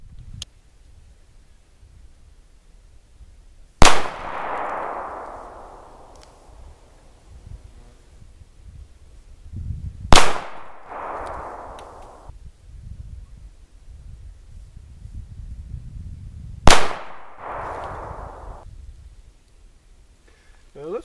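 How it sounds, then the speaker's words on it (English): Three sharp, loud revolver gunshots fired at a target outdoors, spaced several seconds apart, each followed by a rolling echo, with faint wind noise between them. "the next shots I'm going to fire at this friendly fellow right over here"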